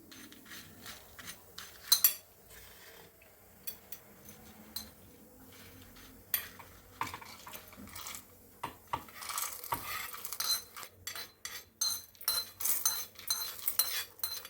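Scraping and clinking of a metal spoon against a steel mixer jar as fried lentils are scooped in, irregular taps and rubs, close and fairly quiet, no talking.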